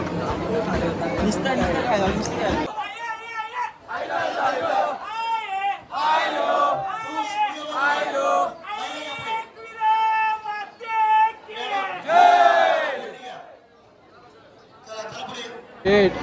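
A crowd of pilgrims at Ekvira temple starts with a dense roar of voices, then breaks into loud, repeated chanted shouts and calls in uneven bursts, with chatter between them.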